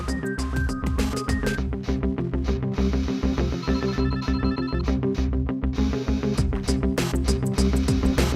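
A telephone rings in a café setting, loud repeated electronic ring bursts in a steady pattern, close and clear over a soft background.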